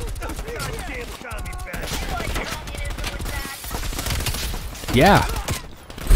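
Rapid gunfire from Call of Duty Cold War gameplay, bursts of shots running nearly throughout at steady loudness, with a short voice and an electronic warbling tone over the shooting near the end.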